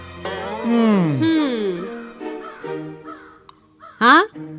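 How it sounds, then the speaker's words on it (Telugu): A crow caws loudly once near the end, a harsh close call following a stretch of talking. "అదిగో ఆ కాకి తెగరుస్తుంది"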